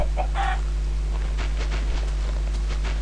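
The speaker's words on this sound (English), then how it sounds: "I see two chickens." Minecraft chickens clucking in the video game, a few short bursts of clucks over steady in-game background hum, close and moderately loud.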